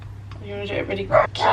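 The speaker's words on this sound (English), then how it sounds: "Excuse the dogs barking like they do all the time." Dogs bark in a home kitchen during cooking, a few short barks rising near the end over a low hum while someone talks.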